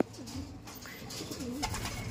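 Racing pigeons coo softly several times in a quick, close run of throaty calls, with no talking over them.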